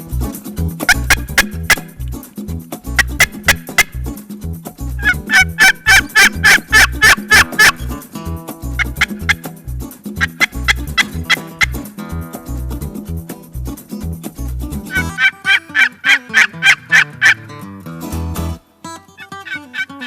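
A wild turkey gobbler gobbles repeatedly in loud, rapid, rattling bursts. The calls come in rhythmic clusters over about twenty seconds, with no talking.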